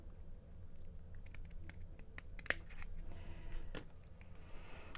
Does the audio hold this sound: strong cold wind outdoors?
no